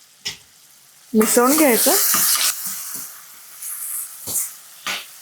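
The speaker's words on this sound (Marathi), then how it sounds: "चांगला हलकासा बदामीसर होईपर्यंत कांदा परतून घ्यायचा." Onion sautés in a pan with a bright hiss and sizzle that swells while it is stirred, alongside someone speaking and several sharp spoon taps on the pan.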